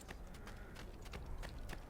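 Horse hooves clip-clop at a stable in Assassin's Creed 2, a steady run of sharp, evenly spaced hoof strikes over a low background bed, fairly quiet and with no talking.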